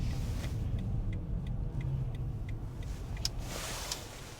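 Loud, steady engine rumble and road noise from inside a moving car, continuous throughout with faint ticking and clicks above the drone.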